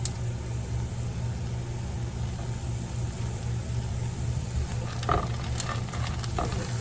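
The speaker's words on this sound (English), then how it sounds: "stir it around in that pan and give it a good little char" Corn stirred and sizzling in a hot pan with bacon fat, a steady close frying hiss with a few scrapes near the end, no talking.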